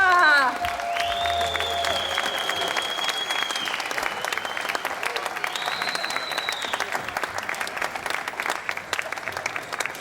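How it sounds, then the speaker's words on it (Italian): An outdoor crowd in Piazza Manzoni, Jesolo, applauds the Aurora Wind Band with dense, sustained clapping for about ten seconds, loud and continuous, while a whistle-like tone and a few voices rise above it. "Dai, facciamo un altro applauso a questa band"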